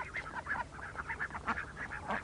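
Farm ducks honk and quack in a steady run of short, nasal calls, several birds overlapping at moderate distance, fairly faint.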